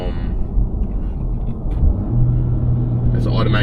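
An Acura Integra engine rumbles low and rises in pitch as it revs with automatic rev matching, near and fairly loud under a person talking.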